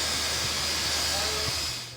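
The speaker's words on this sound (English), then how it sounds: "Our steam train ride will go all the way down to Lidcombe" A steam train at Central Station releases a loud, continuous broadband hiss of steam that stays close and steady throughout, with a low rumble beneath and a slight fade at the end.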